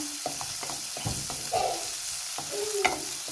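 Garlic sautés with squid in a pan, making a continuous sizzle broken by nearby scraping and knocking stir strokes from a utensil, with no one talking.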